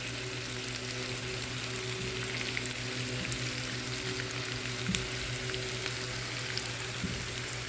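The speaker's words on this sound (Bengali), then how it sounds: "এখন রসুনটা এবং মরিচগুলো সফট করে ভেজে নেব" Garlic and chilies fry in a pan for achari dal, a dense, steady close sizzle with a faint crackle, lasting throughout and heard alone.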